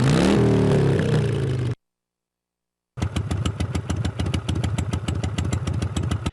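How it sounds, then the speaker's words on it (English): A Harley-Davidson motorcycle engine sound from a late-1990s PC racing game's installer revs up with climbing tones, cuts to silence, then returns as a rapid, rhythmic idling putter. "When you start installing the game, it actually plays motorcycle sounds"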